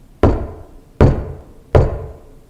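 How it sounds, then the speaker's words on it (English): Three heavy, evenly spaced knocks on a house door at night, each a sharp booming thud with a short ringing decay, loud and close with no talking. "A loud knock resounded through the house."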